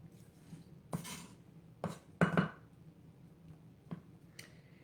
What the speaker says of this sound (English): just giving a nice chop to this onion